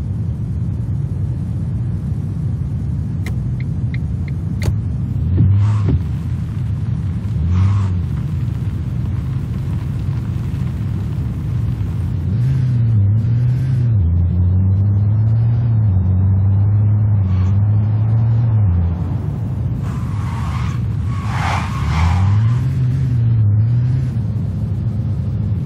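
A taxi drives through a city in the video game Taxi Life, its engine a steady low rumble that rises and shifts in pitch as it accelerates and slows, with a few brief clicks over it.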